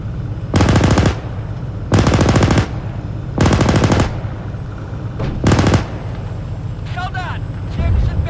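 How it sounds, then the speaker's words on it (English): Machine gun fire in Arma 3 comes in four loud, close sustained bursts of rapid shots, with a fifth shorter burst and brief radio-style chatter near the end. "Notice how I switched to the machine gun when we were in close contact."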